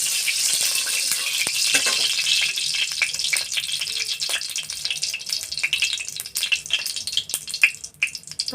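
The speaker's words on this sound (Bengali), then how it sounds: "তেলটা ছিটাচ্ছে সেদিকে নুন দিয়ে দিলাম" Hot oil spatters and crackles steadily in a kadai while potato filling for aloo paratha is cooked, a dense sizzle broken by sharp pops that grow sparser toward the end, with no voices.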